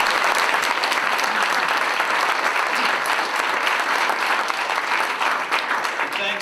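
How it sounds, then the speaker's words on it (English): Applause for Conservative candidates from the Greater Ottawa area at a campaign event with Prime Minister Stephen Harper, a dense, sustained clapping from a crowd lasting throughout at steady loudness. "Give them one more round of applause."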